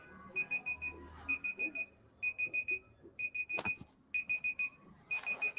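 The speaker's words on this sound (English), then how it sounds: "Wisdom, can you hear my alarm beeping?" An alarm sounds in repeated bursts of three to four quick electronic beeps separated by short pauses, clear and fairly close, with a brief clatter partway through and no talking.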